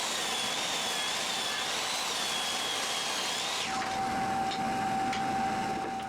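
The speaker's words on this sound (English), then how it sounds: "so I ripped all my parts to 1 inch on the table saw" A table saw rips 2x2 lumber down to 1-inch strips, giving a loud, close, continuous whine with a high cutting tone. The pitch shifts partway through as the blade's load changes.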